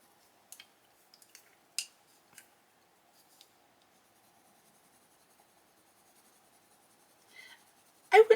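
Faint, scattered scratchy strokes of a Derwent colored pencil on paper, a few short touches separated by long quiet gaps, ending in a slightly louder rub.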